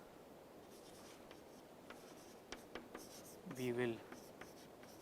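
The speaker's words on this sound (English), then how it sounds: "Let me write it over here." Chalk or marker scratches briefly on a board during a mathematics lecture, a few faint taps and strokes near the end, with a lecturer's voice speaking over it.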